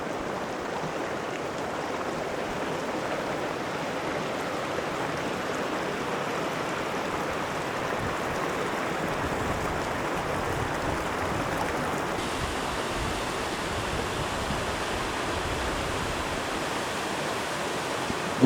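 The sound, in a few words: waterfalls rushing in the mountains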